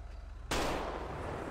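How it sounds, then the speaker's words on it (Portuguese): A single loud gunshot in the GTA 5 roleplay game, fired at a wild boar, bursts in sharply after a quiet lead-in and leaves a dense, sustained rumble behind it. "Dá mais um tiro aí só pra verificar mesmo"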